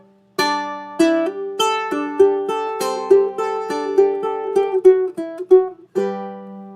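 A ukulele plays a quick plucked riff, notes ringing out one after another in a steady, fairly dense pattern, close and clear with no voices.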